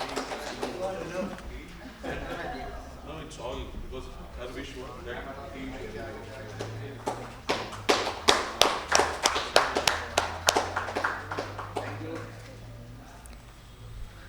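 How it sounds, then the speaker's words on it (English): Audience applause at a corporate social responsibility awards ceremony, starting after some talk and swelling into a burst of loud, close, rapid clapping that tapers off toward the end. "Huge round of applause for them."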